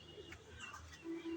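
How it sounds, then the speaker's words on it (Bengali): A pigeon perched on a rooftop ledge, nesting, gives soft, low, faint coos, with the last and clearest one near the end over quiet background. "এই যে কবুতর আমার টয়লেটের কার্নিশে বাচ্চা দেবে বসে আছে"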